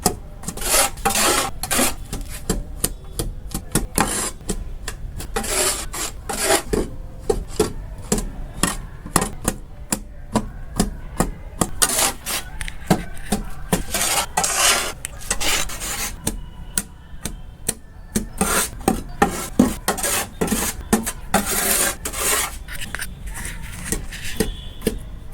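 Soil and amendments being mixed by hand for potting, with continuous gritty rasping and rubbing scrapes in a steady rhythm, close and fairly loud, with no talking.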